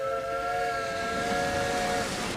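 An anime steam train whistle sounds one long, steady multi-toned blast lasting about two seconds over a background rush of noise.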